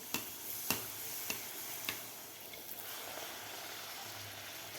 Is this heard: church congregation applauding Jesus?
no